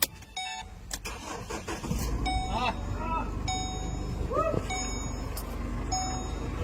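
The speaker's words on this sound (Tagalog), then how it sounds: "May sumigaw pa nga nung narinig nila na umandar na yung sasakyan" A diesel Chevrolet Trailblazer cranks and catches under an open hood, the engine noise rising and settling into a rumbling idle while people talk loudly nearby.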